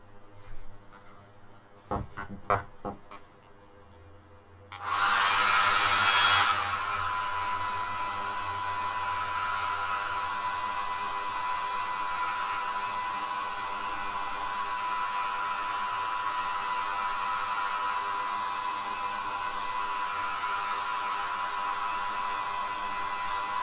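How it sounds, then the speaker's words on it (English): A few sharp clicks and handling noises, then a hair dryer switches on to dry paint on a wood carving, with a loud rush of air settling into a steady whirring hum. "The hair dryer works really well for drying your paint fast"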